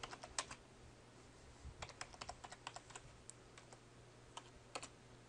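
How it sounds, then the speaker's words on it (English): Computer keyboard typing in bursts of quick, irregular keystrokes over a steady low hum, fairly close and clear with no voices. "And we'll type something in here."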